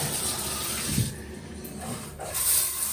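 Steady rushing hot water spray from a Waterpik shower head runs throughout, loud and continuous, with a brief dip midway before it swells again.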